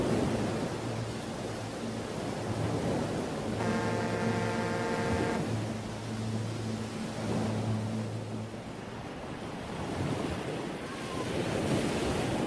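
Sea waves wash steadily against the eastern Mediterranean shore in historic Cilicia, a continuous broad surf roar mixed with wind buffeting the microphone, with a brief low engine-like hum midway.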